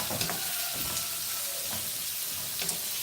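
Capsicum and mixed vegetables sautéing for fried rice give off a continuous sizzle, with a few sharper stirring scrapes and taps against the pan.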